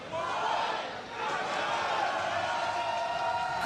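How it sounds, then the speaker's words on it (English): An arena crowd roars and cheers continuously at a NHRL robot combat fight, a dense sustained wash of voices with a brief dip before swelling again, with commentary mixed in. "Crowd going nuts for this one."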